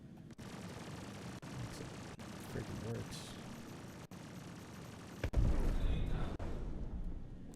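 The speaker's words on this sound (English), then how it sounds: "he took my shield down so quick with that size 7 gun" Heavy size 7 ion cannon fire from a spaceship in Star Citizen hammers the shields in repeated sharp booming shots, loud and close, with a player's voice talking over the combat.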